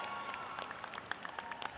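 Applause at a college commencement ceremony, faint scattered clapping from a crowd, with sharp individual claps growing more frequent toward the end.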